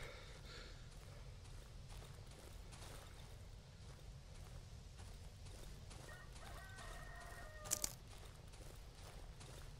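Chickens cluck and a rooster crows in a video game, set against a low, constant background rumble. The bird sounds are faint and scattered, and a short, brighter crowing burst comes near the end.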